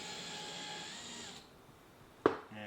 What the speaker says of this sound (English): So with the power drill attachment, you can definitely get through some wire pretty good